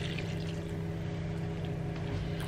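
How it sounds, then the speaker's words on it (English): Lukewarm water pours steadily into a spelt bread dough mixture of milk, yeast, flakes and flour, a continuous close liquid rush with a low rumble, no voices. "Add the lukewarm water."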